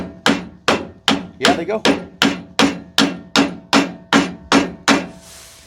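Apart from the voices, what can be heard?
hammering bearing buddies onto trailer wheel hubs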